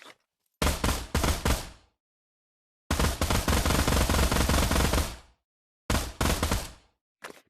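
P90 submachine gun firing at a gun range in the Pavlov VR video game, short rapid bursts and one longer sustained burst separated by silent gaps, loud and close, no talking.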